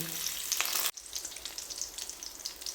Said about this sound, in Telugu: జీడిపప్పు కిస్మిస్లు గోల్డ్ కలర్ వచ్చేలాగా బాగా ఫ్రై చేయాలండి, ఒక 2-3 నిమిషాలు.